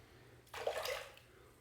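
Running water splashes briefly as a razor is rinsed between passes during a shave with a Derby shave stick, a short burst of about a second that fades back to quiet.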